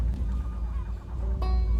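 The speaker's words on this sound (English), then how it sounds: "I love these seagulls." Seagulls calling in the video game Before Your Eyes, set in an isolated seaside town, with honking cries over a steady, low background hum; no talking.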